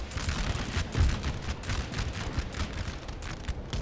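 Musket line volley gunfire in the Napoleon: Total War video game, a dense continuous crackle of overlapping shots and booming battle noise lasting throughout, with no voices.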